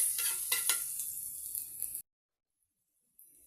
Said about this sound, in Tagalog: Isasalin na natin ang bawang, guys.